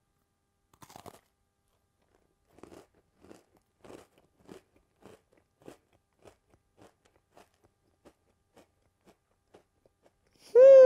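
Crunching and chewing of expensive Oreo cookies, a close series of crisp bites followed by rhythmic chewing crunches that gradually fade, ending in a brief loud tonal sound, with no talking.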